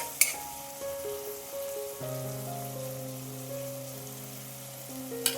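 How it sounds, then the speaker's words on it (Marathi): Finely chopped medium onion sizzling in oil in a pan while being stirred, a steady close crackling hiss with occasional clinks of the spoon, no talking. "आता हा कांदा छान तेलामध्ये गुलाबी रंग येईपर्यंत परतवून घ्यायचा।"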